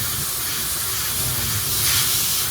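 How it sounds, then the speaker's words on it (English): A high-pressure steam cleaner sprays grease off a dirty Norton motorcycle in a shop, giving a steady, loud hissing spray that runs unbroken throughout and swells slightly toward the end. "You think you'd stand back a few feet and spray it down, everything would just come sliding off a great big piece of grease."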